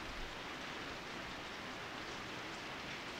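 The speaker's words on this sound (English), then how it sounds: "I swear I can hear every drop of rain." Steady rain falls in the horror video game Corpse Party, a constant even hiss of many drops with no pauses and no voices.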